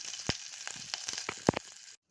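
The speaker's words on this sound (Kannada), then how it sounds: "ಇದೆಲ್ಲ ಸ್ವಲ್ಪ ಚಟಪಟ ಅಂತ ಸಿಡಿಲಿ." Green chillies spluttering in hot oil for a tempering, with a steady close sizzle broken by scattered sharp pops, one louder crackle near the end, then sudden silence.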